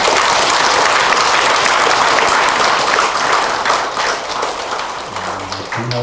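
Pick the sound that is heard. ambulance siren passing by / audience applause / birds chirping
audience applause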